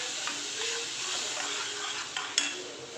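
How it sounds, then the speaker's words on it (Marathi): Spices fry in a pan with a ground paste of tomato, ginger, garlic and chili for matar paneer, giving a soft, steady sizzle that stays fairly quiet, with a couple of faint stirring clicks. "चला तर मसाले थोडे परतून घेते."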